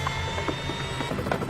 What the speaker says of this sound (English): Mexican military helicopters fly in personnel and supplies to the isolated city.